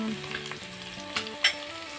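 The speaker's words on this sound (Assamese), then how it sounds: "ভালদৰে পিঁয়াজখিনি অকণমান ভাজি লওঁ" Onions fry in a pan with a close, continuous sizzle, broken by a few stirring scrapes and clinks, no talking.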